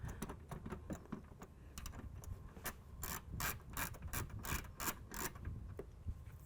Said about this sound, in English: This is a 10mm nut, so I'm going to just go ahead and loosen it just a little bit.